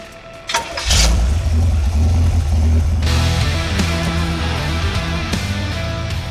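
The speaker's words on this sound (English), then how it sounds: "we're gonna rev it up here" A car with a new exhaust and wrapped headers starts up and revs hard, the deep engine roar close and loud, holding high then easing toward idle.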